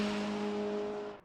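GT-MX Macca V8 race car in Assetto Corsa: a loud, sustained engine drone with a steady pitch that eases off and briefly dips near the end.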